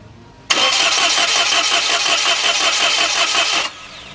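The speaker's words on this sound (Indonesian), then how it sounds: "Oke, kita start engine-nya sekarang." A Toyota Agya / Daihatsu Ayla petrol engine cranks and catches, a loud steady rhythmic churning from the starter that runs about three seconds before cutting off, with no talk over it.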